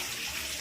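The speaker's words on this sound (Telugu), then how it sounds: "ఈ కొండల్లోంచి వచ్చే వాటర్ ఈ వెచ్చగా ఉండడం అయితే నేను ఫస్ట్ టైం చూస్తున్నా" Warm spring water flows from the hills beside a cave shrine in the Nallamala forest, a steady, dense rushing wash that fills the short moment without a break.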